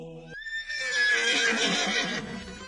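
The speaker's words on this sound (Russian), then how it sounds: "Карачаевская порода лошадей" A Karachay breed horse gives a loud, close whinny that rises sharply and trails off into a shuddering neigh lasting about two seconds, heard alone.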